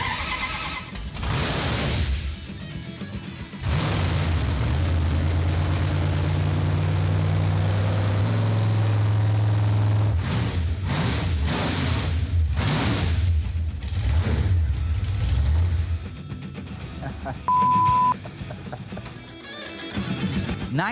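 A 923-horsepower Hemi engine in a 1964 Dodge A-100 turns over in loud, roaring bursts separated by short pauses, heavy low rumble throughout and close by.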